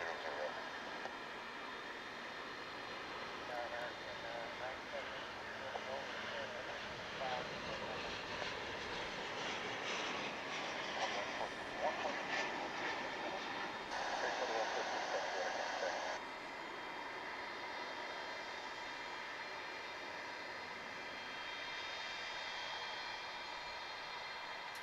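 Airplane engines whine at DFW International Airport, a steady, distant, high-pitched drone. A broader jet roar swells in the middle and then eases back.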